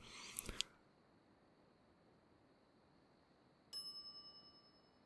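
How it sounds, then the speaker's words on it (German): A shop counter bell in The Secret of Monkey Island rings once, a clear metallic ding with a decaying ring, following faint background ambience and a few earlier short clicks. "Ich bin kaum zwei Sekunden von der Theke und schon benutzt, irgendein Idiot gleich die Glocke"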